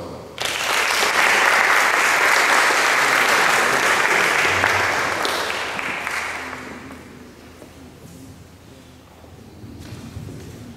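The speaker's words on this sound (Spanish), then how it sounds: "Le damos la bienvenida con un aplauso." An audience at a lecture on Andean ethnographic images applauds, a dense burst of clapping that holds strong for several seconds, then thins and fades, with scattered claps lingering at the end.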